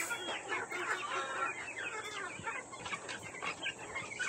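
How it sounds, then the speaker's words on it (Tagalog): Heritage chicks in a small backyard coop keep up a busy chorus of soft clucks and peeps, overlapping constantly at a close, moderate level with no talking over them. "unahin nating pakainin ng mga heritage chicks natin mga kabakyard"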